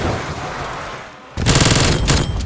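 Rapid gunfire from a weapon in Black Ops Cold War zombies on the Die Maschine map, a loud burst of repeated shots following a brief quieter stretch of game ambience.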